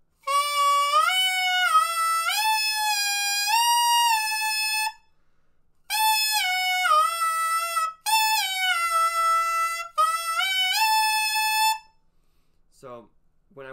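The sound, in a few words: saxophone mouthpiece alone, bending pitch warm-up exercise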